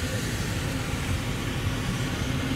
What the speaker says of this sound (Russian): Пошли трактора.